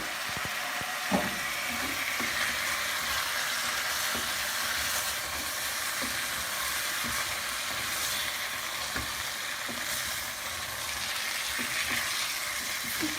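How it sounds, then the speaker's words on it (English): Chopped tomatoes sizzling among potatoes in a pan of potato curry on medium-high heat, a steady close frying hiss with occasional stirring knocks and scrapes, no voices. "I'm now going to add the chopped tomatoes so that we can have a nice sauce in the curry."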